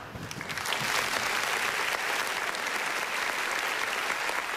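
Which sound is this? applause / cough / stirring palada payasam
applause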